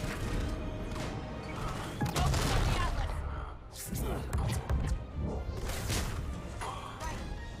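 A grenade blast in the video game Mass Effect 3 amid heavy combat, loud booms and crashes mixed with rapid gunfire over several seconds, with voices heard in the clip.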